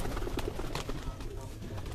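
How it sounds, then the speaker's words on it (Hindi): A French pigeon coos softly several times among other pigeons, with faint background noise and possible distant voices. "देखो फ्रांसी कबूतर"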